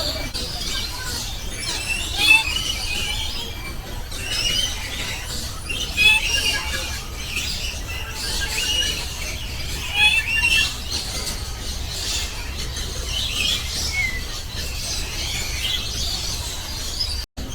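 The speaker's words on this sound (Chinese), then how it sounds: "这里还真吵，不是人潮，是鸟巢" Noisy birds in an aviary at Jurong Bird Park in Singapore, a dense steady chorus of high chirps, squeaks and squawks with repeated bright calls standing out over a constant wash of background noise.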